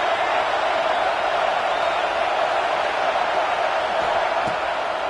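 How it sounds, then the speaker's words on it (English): A huge stadium crowd at a college playoff football game between Florida and South Carolina roars in a dense, unbroken wall of noise that stays loud and steady throughout. "Listen to this crowd just shaking the girders of this place"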